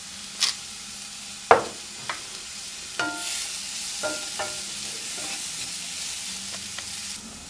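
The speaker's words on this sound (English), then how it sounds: "this will cook for about 2 to 3 minutes more, or until the onions are completely tender" Onions and mixed vegetables frying in a pan for chickpea burgers, a soft continuous sizzle broken by several sharp clacks and scrapes of a utensil stirring against the pan.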